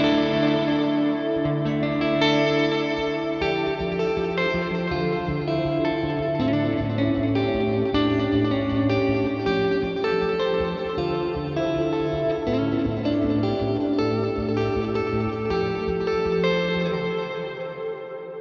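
Ambient guitar noodling through an Axe FX 3 quad tape delay set fully wet, a dense, sustained wash of overlapping repeated notes and chords that blur together for several seconds, loud and steady with no talking.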